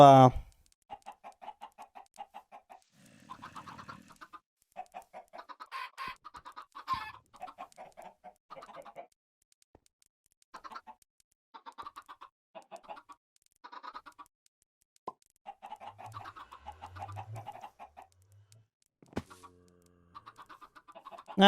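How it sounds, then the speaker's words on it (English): Blocky chickens in the FTB Infinity Minecraft modpack cluck softly and repeatedly, in short scattered bursts with gaps between them, alongside faint game ambience. "We got 3 chickens outside."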